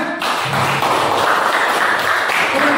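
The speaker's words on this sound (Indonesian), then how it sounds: "Tepuk tangan." High school students in an Indonesian classroom clap together in a loud, dense, sustained burst of applause that fills the room close by.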